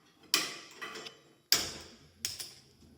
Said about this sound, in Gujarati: તો આપણે હવે ગેસ ચાલુ કરી દઈએ